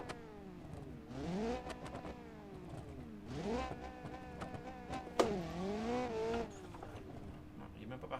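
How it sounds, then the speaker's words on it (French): Simulated car engine in BeamNG.drive, driven with a Logitech G27 wheel and paddle shifters, revs hard in three rising and falling sweeps, loud and close, with a short sharp burst near the last rev before it settles to idle. "Si mettons je fais exprès de rincer mon moteur"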